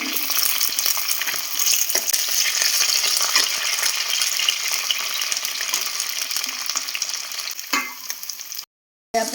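Ginger, green chilli and shallots fry in hot oil for a fish curry, a dense, steady sizzle close up that runs unbroken and fairly loud, with a few faint clinks, then cuts out briefly near the end.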